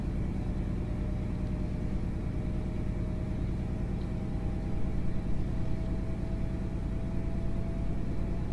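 Steady low diesel rumble of a VP185-engined Class 43 HST power car in Train Sim 2020, a continuous droning hum with a faint tonal whine, unchanging and close throughout.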